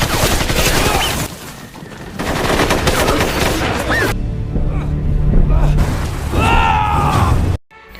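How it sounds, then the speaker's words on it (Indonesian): Gunfire from a battle scene in an action film: loud bursts and rapid shots overlap dense movie sound and shouting, with a sudden cutoff near the end. "mereka terpaksa menembak karena salah seorang pemberontak terlihat akan menembakkan senjata kepada Brandon"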